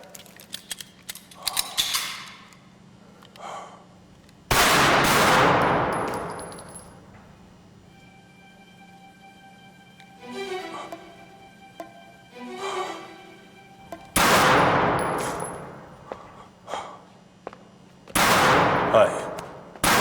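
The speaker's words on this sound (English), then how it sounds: "Report when ready to fire." Gunfire on a firing line rings out in three loud, sharp bursts with long decaying tails, separated by quieter stretches of clatter, mechanical handling and faint voices in between.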